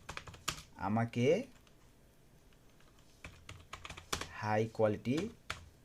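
Close, crisp keystroke clatter from a computer keyboard, with scattered taps and short bursts heard between and under a man's speech in Bengali.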